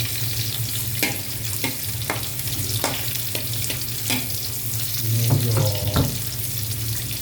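Garlic sautéing in a pan for a simple Filipino vegetable dish (ginisang gulay, pakbet): steady close frying sizzle and hiss throughout, with scattered sharp clicks and scrapes of stirring and a low hum underneath.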